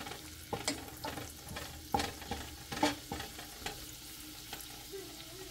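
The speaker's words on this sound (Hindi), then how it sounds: "पैन में मैं ऐड कर रही हूँ थोड़ा सा अनियन" Onion cooking with melted butter in a pan, a low steady sizzle broken by repeated sharp scrapes and taps of a utensil stirring, close and fairly quiet.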